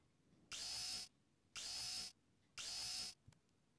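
Three separate bursts of a high-pitched whining dentist drill, each about half a second long, used on a pipe in a basement in the Deponia adventure game, with quiet gaps between them.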